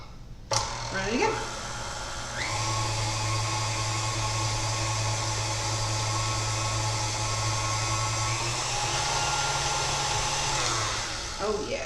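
An electric hand mixer whirs through banana bread batter, a steady motor whine that holds for several seconds before easing off, with faint voice and kitchen noise around it.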